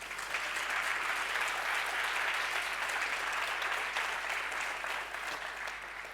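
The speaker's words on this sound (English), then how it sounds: "A round of applause for them again," Sustained applause from an awards ceremony audience honoring category finalists, a dense, steady wash of clapping that holds evenly for several seconds with no talk over it.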